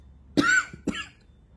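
Two quick, close coughs, a harsh first one followed by a shorter second, then quiet.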